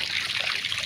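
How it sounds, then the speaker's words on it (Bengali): Ducks bathe in cold water, making a brief, continuous close splashing and trickling. "দেখেন হাঁসগুলো ঠান্ডা পানি পেয়ে কি সুন্দর করে গোসল করতেছে হাঁসগুলা।"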